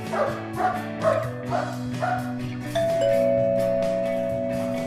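A dog barks several times in quick succession at a door, followed by a doorbell chime that rings out and holds steady over the last seconds, with the barking ending before the bell.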